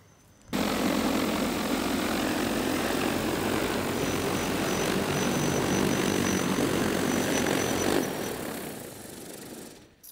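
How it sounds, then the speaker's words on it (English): A J100 agricultural spray drone flies back and lands, its loud, steady propeller drone roaring close and continuous before cutting off abruptly near the end. "We'll get out of the way, let your drone land"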